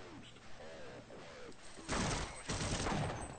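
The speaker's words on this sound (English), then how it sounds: "three freaking shotgun blasts to kill him" Shotgun blasts in the video game Half-Life: a burst of loud, rough blasts and crackling impact noise arrives after a quieter stretch with a voice, filling the last part densely.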